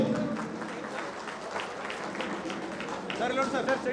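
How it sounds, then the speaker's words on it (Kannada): Applause at a political event forms a steady wash of many hands clapping throughout, with a voice speaking over the crowd. "ಅವರಿಗೆ ಬೇಕಾದ ಜೋರಾದ ಚಪ್ಪಾಳೆ"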